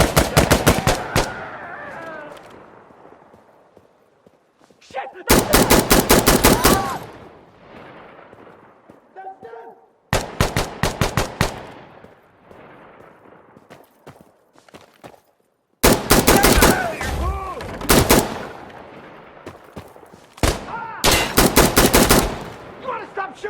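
Loud automatic gunfire in the shooter Insurgency: Sandstorm, coming in five sharp bursts of rapid shots separated by short pauses where echoes and distant noise fade out.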